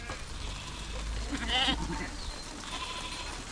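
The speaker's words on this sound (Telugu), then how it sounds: "ఏంటి యా ఊరికి పోతాయి అన్ని గొర్రెలు" A flock of sheep in a small Karnataka village bleats, with one clear, moderately near bleat rising above a low, steady rumble of background noise.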